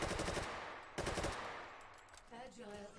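Rapid automatic gunfire in a competitive shooter game, two dense bursts of fast shots close and loud, then quieter game effects and tonal beeps.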